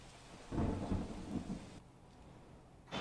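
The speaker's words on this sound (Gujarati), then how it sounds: "સુરત શહેરમાં છેલ્લા 3-4 દિવસથી સતત વરસાદ પડી રહ્યું છે." Rain falling over Surat city during days of continuous monsoon downpour, with a brief low rumble of thunder swelling and fading over soft, steady rainfall.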